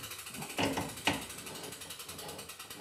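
A velomobile pedal crank is turned loose with a wrench, giving a run of quick, close ratcheting clicks with two sharper metallic snaps early on and no talk.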